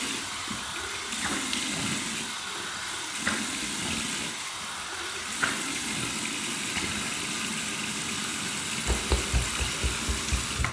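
Cold tap water runs steadily from a faucet into a sink for a rinse during a barbershop shave, a continuous close rush with a low hum beneath and a few soft knocks near the end.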